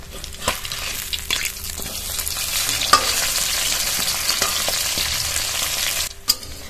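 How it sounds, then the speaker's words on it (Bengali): Pomfret pieces rubbed with salt and turmeric fry in oil in a pan, giving a steady, loud, crackling sizzle with a few sharp pops. It cuts out near the end, followed by a brief utensil clank. "মাছগুলো কিছুটা আগে ভেজে নিয়েছে আর কিছুটা এখন ভাজছে।"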